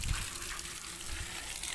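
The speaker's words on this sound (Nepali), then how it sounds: "फाइनली हाम्रो गाउँमा पानी आयो होइन" Village water supply gushing and splashing as water finally arrives, a steady low rushing flow heard faintly and continuously without speech.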